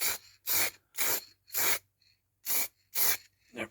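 Spray paint hissing onto a Rover 45 door handle in short, close bursts, seven quick evenly spaced sprays with brief pauses between them.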